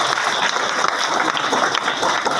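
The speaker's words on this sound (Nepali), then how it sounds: "ल फेरि एकपल्ट ताली" Dense, steady audience applause fills a hall at a motivational program for SEE students. The clapping is loud and continuous from start to finish, with faint crowd murmur underneath.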